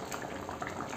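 Gulwa fish masala curry at a rolling boil in a pot, a dense, steady bubbling and simmering close by, with no talk over it.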